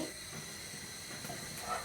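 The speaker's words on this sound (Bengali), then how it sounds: "পটল ভাজি করার জন্য আমরা এখানে প্যানের মধ্যে তেল দিয়ে দিয়েছি," Oil for frying pointed gourd hisses steadily in a frying pan, a constant soft sizzle with no talking.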